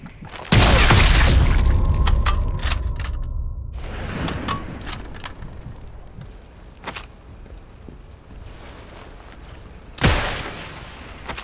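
Explosions in the World War II shooter Sniper Elite 5: a loud blast opens into a long rumbling roar with scattered debris clatter, then fades before a second sharp boom near the end.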